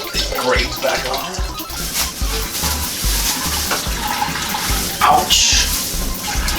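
Liquid drains from a squeezed grain bag while an imperial ghost pepper stout is homebrewed. A continuous splashing trickle runs for several seconds, close and fairly loud, with a few bumps of handling.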